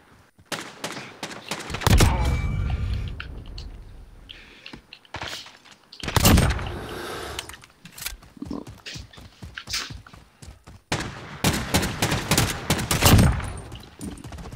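Pistol gunfire in Modern Warfare during a pistols-only match, with sharp shots that come in scattered single bursts and quick clusters, loud and close, separated by quieter gaps with faint tapping.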